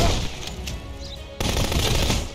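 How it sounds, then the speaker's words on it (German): Shotgun blasts from the video game Contraband Police, loud gunfire in two bursts with a sharp jump in level partway through, dense and booming, with no talk over it. "Oh, diese Shotgun, die macht mich fertig."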